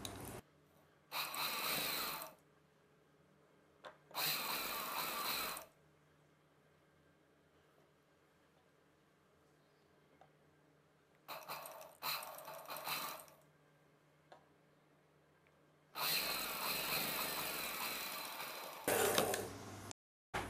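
A sewing machine stitches fabric sleeve pieces in four short runs of whirring, each a second or two long, separated by quiet pauses in a calm room.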